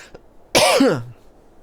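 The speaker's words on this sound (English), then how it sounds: "Oh my god, this cough is being an asshole right now." One sudden, loud, close cough from a person bursts out after a quiet moment and trails off into a throaty rasp.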